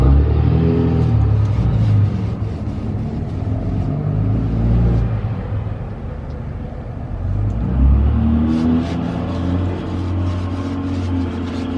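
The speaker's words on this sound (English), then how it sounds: "You never notice how loud the traffic is until you can't see it." Steady road traffic passes outside an old house under restoration, a continuous low rumble with car engines swelling and fading as vehicles go by, fairly loud and constant throughout with no talk.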